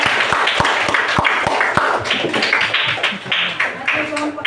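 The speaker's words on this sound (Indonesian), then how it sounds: "Tepuk tangan untuk kelompok" A class of fourth-grade students applauds a group of classmates, giving a steady patter of hand claps with a few sharp taps and some voices mixed in.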